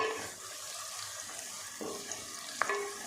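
Salted ingredients are stirred and fried in a pan until golden, giving a faint, steady sizzle with occasional scrapes of the spoon and a light clink near the end.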